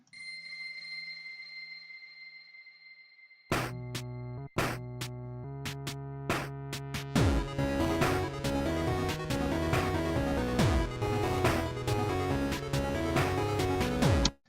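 First draft intro of an electronic song, opening with a soft, dark retro synth tone before sharp hits kick in and a dense, driving electronic arrangement builds with repeated stabs and sweeps.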